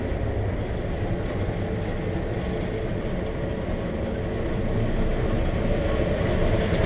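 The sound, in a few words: combine harvester header starting up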